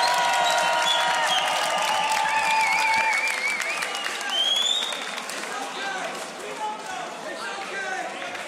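A crowd at a loopstation beatbox battle applauds and cheers, a dense wash of clapping with whistles and shouts. It swells loudly and then eases slightly while the noise continues throughout.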